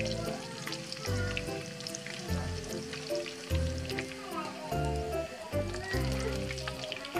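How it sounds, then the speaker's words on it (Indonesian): Salted fish frying in a pan, a steady busy sizzle and crackle running throughout at moderate level, with low background hum and no talking. "Terus lanjut ini aku bikin ikan asin."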